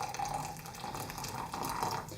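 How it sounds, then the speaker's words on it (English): Hot water poured from a kettle into an Aeropress coffee maker to preheat it: a close, steady splashing stream of liquid filling the chamber for a couple of seconds. "we're going to start by just adding some hot water in there to preheat the Aeropress"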